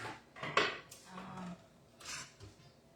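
A bigger mixing bowl is fetched from the side of a home kitchen while making taco pasta salad, giving a few close ceramic or glass knocks and light clatter with quiet gaps between.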